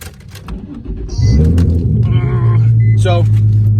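Straight-piped Nissan 350Z with a faulty MAP sensor idling roughly, a deep uneven drone that grows louder and steadier after the first second, close by, with someone talking over it.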